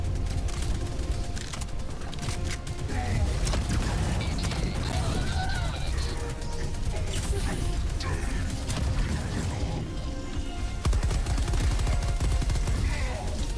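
Stalwart machine gun in the video game Helldivers 2 firing at cyborgs, with dense rapid bursts, mechanical clatter and explosions in a busy battle mix, and a voice talking over much of it.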